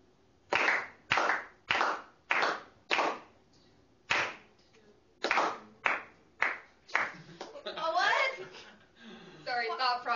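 Sharp, loud hand claps in a rhythmic pattern, about a dozen distinct beats with short pauses between, followed by a brief burst of voices.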